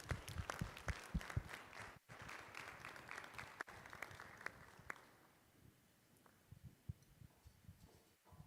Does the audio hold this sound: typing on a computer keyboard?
no